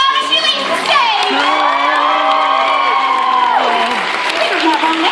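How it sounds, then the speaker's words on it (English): Loud, continuous crowd cheering and applause at a 2018 cosplay event as a performer leaves the stage, with high children's shouts and whoops riding over the steady clapping throughout. "Make that applause really loud as she leaves the stage."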